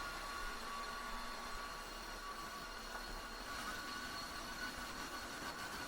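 A Tineco wet/dry vacuum cleaner runs steadily and loudly close by, a constant broadband roar with a thin whine on top, with no pauses and no talk.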